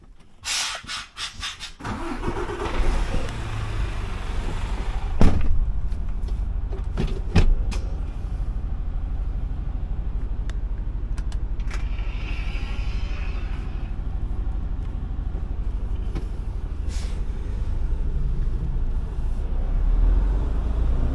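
A truck on the road on a long-haul trucking run, with a steady low engine and road rumble throughout, preceded by a few clattering knocks at the start and occasional cab rattles and thumps.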